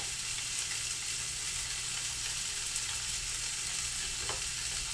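Onions caramelizing in a frying pan give a steady, close sizzle with soft stirring scrapes throughout, with no talk.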